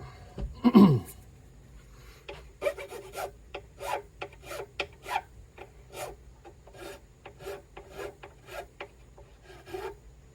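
A file rasps over the nut of a Gretsch Streamliner electric guitar during a setup, giving about twenty short, close scraping strokes at an uneven pace after one louder bump at the start.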